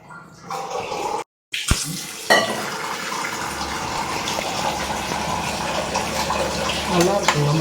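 Boiled water and mutton stock poured into rice for mutton biryani in a home kitchen, a steady gushing pour that runs on for several seconds after a brief gap.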